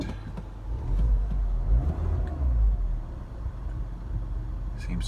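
An R56 Mini Cooper S engine idling after a high-pressure fuel pump replacement, a low steady rumble with a slight swell in the middle, close by, with faint clicks and no talk.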